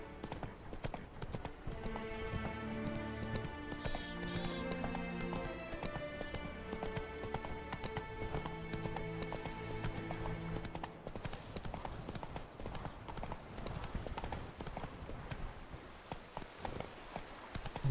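Roach the horse clip-clops steadily across terrain in The Witcher 3: Blood and Wine, the hoofbeats continuous beneath orchestral game music, with a tense easing of pace toward the end.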